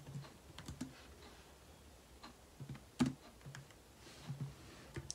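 Faint, sparse keystrokes on a computer keyboard, irregular clicks and taps spread across a few seconds in a quiet room with no talking.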